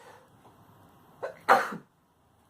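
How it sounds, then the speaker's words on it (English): A single harsh cough bursts out close to the mic, with a short throaty catch just before it, then quiet. "that's a little bit of a cough"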